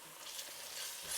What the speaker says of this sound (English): Then once your onions are nice and golden, we can start adding the rest of the ingredients. Ginger and garlic paste.